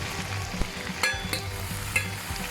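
Pork belly stir-fried in red curry paste with holy basil leaves added, a close, steady sizzle broken by scraping stirring strokes in the pan.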